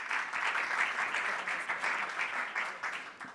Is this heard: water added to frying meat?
no